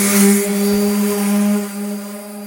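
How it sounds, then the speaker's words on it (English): A power sander works over rust spots on the hood of a GMC work truck, a steady close whirring drone with a strong sustained tone that holds, then eases off near the end, with no talk. "As you can see, he's sanding it down."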